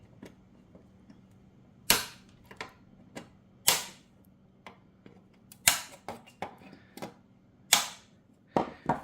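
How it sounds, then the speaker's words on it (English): Plastic welding staples having their ends snipped off with cutters, a series of sharp, loud snaps spaced irregularly about a second or two apart, with small clicks and handling noises between them. "let's cut these ends off"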